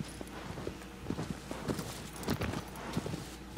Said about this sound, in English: The horse is just kind of moving along its own.